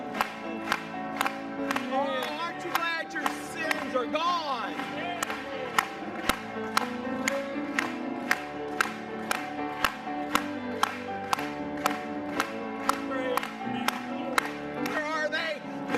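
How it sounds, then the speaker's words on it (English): A church congregation claps in steady rhythm along with a gospel song, sharp regular claps on the beat under singing voices and instruments, loud and close throughout. "Let's clap it to him tonight"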